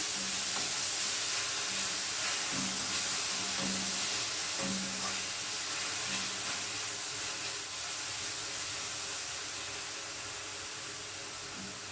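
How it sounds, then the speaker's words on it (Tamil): Onions fry in a pan for a chicken pepper fry, giving a steady close sizzle and hiss that continues throughout, with occasional soft stirring scrapes and no talking. "லைட்டாக வதங்கி வரட்டும் பாருங்கள் இந்த வெங்காயம் வதங்கட்டும்"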